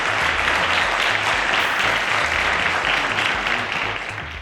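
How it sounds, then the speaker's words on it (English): A studio audience on the Cowbellpedia quiz show applauds the head boy with loud, continuous clapping and a low steady hum underneath, fading slightly at the very end. "A round of applause to our head boy, Ayooluwa."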